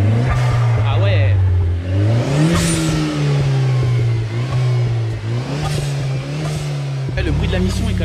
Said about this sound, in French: si tu peux remettre une petite accélération, on entend quand même vachement bien ton admission